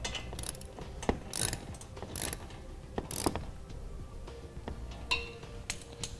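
A ratchet socket wrench tightens a 7/8 anti-rattle bolt on a 2-inch hitch cargo carrier, giving close, uneven ratcheting clicks and metallic clinks in short bursts, without talk.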